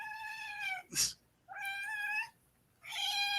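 A cat meows in a few drawn-out, whiny calls separated by pauses, with a short breathy hiss or puff between the first two. It is close and heard alone.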